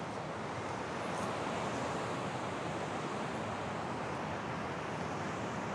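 Ocean waves roll onto Jaco beach as a steady, broad wash of surf noise, close and continuous, with light wind across the microphone and no voices.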